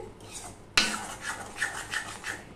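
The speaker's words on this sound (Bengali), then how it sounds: "ভালোভাবে নাড়তে হবে এইভাবে।" Ridge gourd being stirred in a wok with a utensil, giving a sharp scrape at the start followed by repeated light scraping and rubbing strokes against the metal, close and fairly quiet, with no talking.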